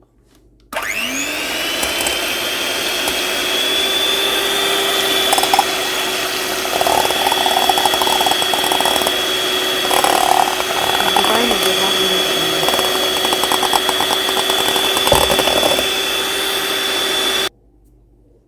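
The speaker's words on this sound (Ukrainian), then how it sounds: "Спочатку збиваємо яйця." An electric hand mixer whirs steadily at high speed, beating eggs with sugar for a charlotte cake in a home kitchen, running continuously for most of the clip with brief pitch shifts as the beaters move through the bowl.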